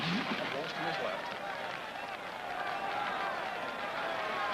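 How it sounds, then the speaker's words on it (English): A video game football stadium crowd cheers and roars in a dense, steady wash that fills the whole stretch, with a commentator talking over it. "listen to that crowd"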